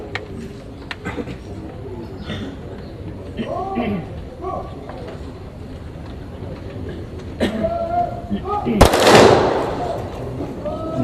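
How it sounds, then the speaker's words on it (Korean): A Marine Corps honor guard fires a rifle salute volley at a memorial ceremony at Seoul National Cemetery, heard as one sharp loud crack late in the clip after quieter hall murmur and a voice. "해병대 조총 발사."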